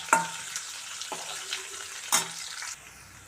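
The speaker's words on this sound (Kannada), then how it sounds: "ಇದನ್ನು ಒಂದು 30 ಸೆಕೆಂಡ್ ಚೆನ್ನಾಗಿ ಎಣ್ಣೆಯಲ್ಲಿ ಫ್ರೈ ಮಾಡ್ಕೋಬೇಕು" Chopped onions fry in oil in a pan with a steady, close, moderate sizzle, broken by three sharp clinks or scrapes of a utensil stirring at roughly one-second gaps before the hiss drops off near the end.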